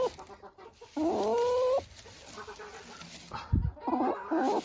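A Cochin bantam hen broods in winter, giving loud, close, repeated clucks and drawn-out complaining calls, interrupted by a brief thump.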